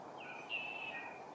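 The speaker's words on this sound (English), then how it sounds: "Do you guys hear that bird that just did that?" A single drawn-out, high bird call at a lakeside on a morning in Big Bear, one sustained whistled note that rises slightly and holds before fading, faint and somewhat distant over quiet background hiss.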